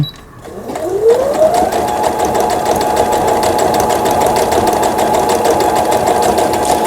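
A Brother CS6000i home sewing machine, just repaired, winds up its motor and then stitches at a steady fast rhythm, loud and close, with no voices over the mechanical whir.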